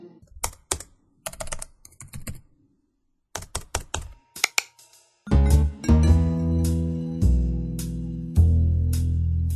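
Keys clack on a computer keyboard as a website address is typed, in short bursts of quick taps, close and clear. Then sustained musical tones come in over the last few strokes.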